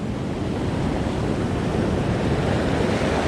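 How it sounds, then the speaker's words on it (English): Ocean surf rushing over rocks on the Florida coast, a dense, continuous roar of breaking and churning water, loud and close with wind buffeting the microphone and no voices. "definitely got to keep my eye on the incoming surf."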